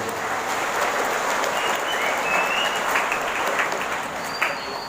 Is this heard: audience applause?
yes